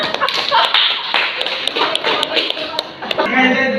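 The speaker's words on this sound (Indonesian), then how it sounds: "untuk teman-temannya diberi dulu tepuk tangan." A primary school class claps for classmates during a lesson: sharp, fairly loud hand claps and taps close by, with children's voices chattering over and around them.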